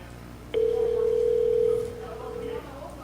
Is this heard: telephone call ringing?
yes